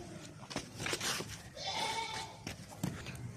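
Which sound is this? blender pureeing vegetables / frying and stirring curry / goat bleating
goat bleating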